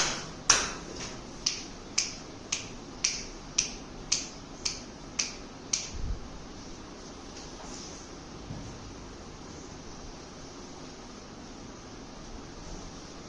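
Finger snaps in a classroom counting game for maths, nine crisp evenly spaced snaps ringing out alone in quick succession, followed by a quiet room with faint background hum.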